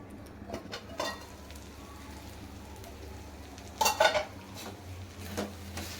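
Spatula stirring tomato chutney in a pan, quiet scraping with a few clinks of metal against the pan over a faint sizzle.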